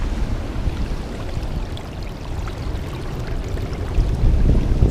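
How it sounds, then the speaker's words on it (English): A small waterfall draining a tidal pool of ocean water left by the high tide, a steady close rushing splash that swells slightly toward the end, with no talking. "it kind of swings around and makes its way down here in the form of a waterfall"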